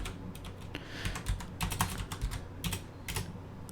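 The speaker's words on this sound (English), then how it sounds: "now it's weird actually typing on my keyboard" Rapid, irregular clicking of keys on a mechanical computer keyboard, close and moderately loud, with bursts of keystrokes and short pauses, no talking.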